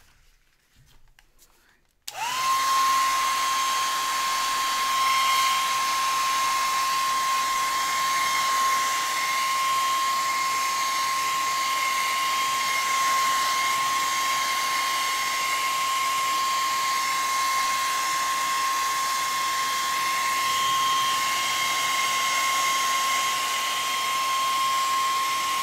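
A hair dryer starts up after a brief quiet moment and then blows steadily on painted papers, a loud, even whir with a constant whine that holds to the end.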